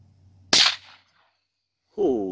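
A little boy fires a gun once, giving a single sharp, close crack that fades quickly into silence before a voice speaks near the end.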